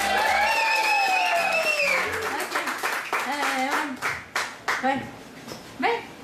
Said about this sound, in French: je vous demanderai à tous d'applaudir et de faire du bruit pour Madame Mylène Lavoie